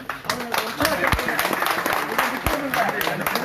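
An audience at a law training class in Kolli Hills applauding teachers, a dense wash of steady clapping mixed with crowd noise, with a voice talking over it.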